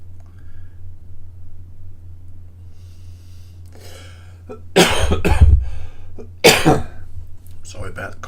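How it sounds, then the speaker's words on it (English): Several harsh, loud coughs burst out in two clusters near the end of a quiet stretch with a steady low hum underneath, from a smoker working on a Warhammer 40K Sisters of Battle Exorcist model. "Sorry about the coughing."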